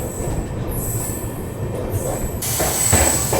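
The Matsyagandha superfast train with LHB coaches runs past Mangaluru Junction with steady rumbling, clattering wheels and high-pitched squealing from the rails, growing louder toward the end.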